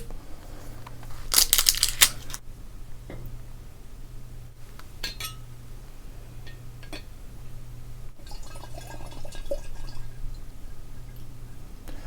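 Whiskey pours into a glass infinity bottle, starting with a short, bright burst of clinking glass and then a faint, steady trickle and drip of liquid in a quiet room.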